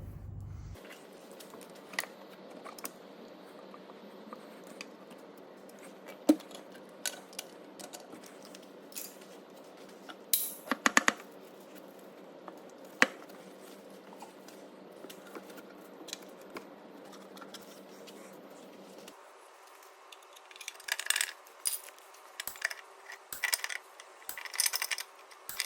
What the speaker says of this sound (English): I'm just going to just lightly tap a screwdriver in there, and then that should just start breaking it away